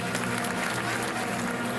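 A theatre audience applauds steadily and densely at the premiere of the opera-ballet Abesalom and Eteri in Parma, a continuous close wash of clapping hands with no pauses.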